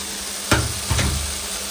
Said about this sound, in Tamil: அது வதங்கிட்டு போகுது.